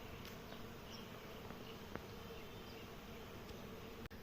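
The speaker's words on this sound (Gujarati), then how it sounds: "આ તો જો ભાઈ કેટલી બધી મધમાખી અહીંયા કને ઉડે હો ને" A large swarm of honeybees flies around a water source on a hot summer afternoon, their dense droning hum steady and loud throughout, with a few individual bees buzzing past close by.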